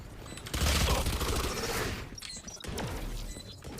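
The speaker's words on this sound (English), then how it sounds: "Grenade." A grenade blows up in Valorant as a loud, booming blast with a crackling tail that fades over about a second, followed by quieter scattered clatter and thuds.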